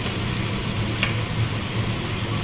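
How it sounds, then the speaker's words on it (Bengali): Fried pointed gourd and potato go into a pan of sizzling oil and are stirred, giving a soft, steady frying crackle close by with a faint scrape of stirring. "এবারে পটল আর আলু যেটা ভেজে রেখেছি ওটা দিয়ে দিলাম, মিলিয়ে দিলাম"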